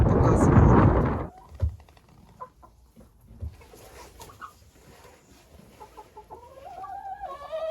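A hen in a snowy backyard coop gives short, soft clucks and murmurs after a loud burst of noise at the start. A few faint, higher calls follow near the end.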